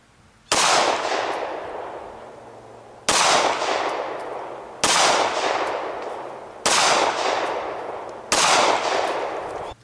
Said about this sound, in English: The Glock shot the Jesse James ammo at a group of 2 1/4 inches.